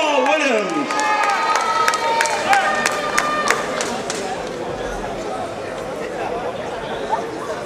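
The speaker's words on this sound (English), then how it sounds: "Once again, a round of applause for the MVP, Kehoe Jamal Williams." A crowd applauds and cheers during the trophy ceremony after the 2015 Toyota Classic basketball final. A loud, steady wash of clapping and crowd noise runs throughout, with an amplified voice at the start.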